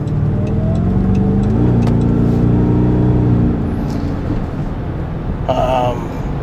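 A car accelerates onto the highway with a loud, close engine drone whose pitch climbs through the gears before settling into steady road noise.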